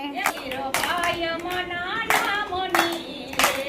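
Steady rhythmic hand clapping from a group keeps time with a devotional Gujarati song about Lord Ram and Shabari, sung loudly over the claps in a close, lively setting.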